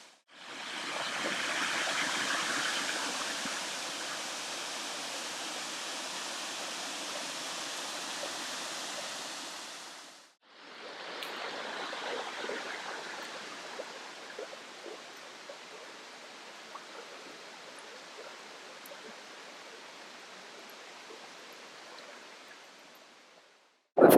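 Nelson Falls on the Nelson River in Tasmania roars as a steady broadband rush of falling water, loud and continuous, with a brief break midway before resuming slightly softer.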